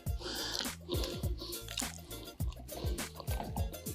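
Yeast being stirred into water in a bowl, with soft rapid liquid sloshing and dripping squishes in a quick, repeated stirring rhythm, close and fairly quiet.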